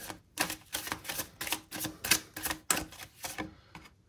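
Tarot cards being drawn and laid out for a five-card reading, giving a quick series of crisp, papery slaps and shuffles in an irregular rhythm, close and fairly quiet with no talk.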